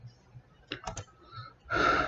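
Several crisp computer clicks close together in a quiet room, followed by a slightly longer burst of clicking and clattering near the end.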